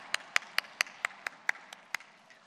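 A church congregation claps in blessing, a short run of about ten sharp, evenly spaced claps that thin out and fade at the end, with no voices over them.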